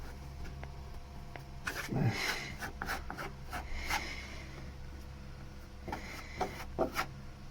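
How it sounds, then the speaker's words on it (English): Scraping excess filler off a small hole in a surface, heard as soft, close rasping strokes in short irregular bursts over a steady low hum, with no talk. "scrape off the excess, and just leaves the hole covered"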